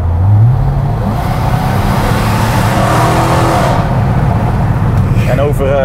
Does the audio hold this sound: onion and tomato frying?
no